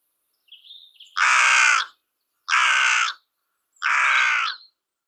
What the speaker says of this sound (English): the crow's guttural, slightly vibrant, deeper croaked kraa is distinct from any note of the rook